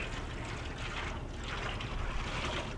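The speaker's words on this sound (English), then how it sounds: "This is where you get to wash off that grate." Water is poured over a smoker grate and runs into the drip pan of a smoker set up for Texas brisket, giving a steady rushing splash that continues throughout.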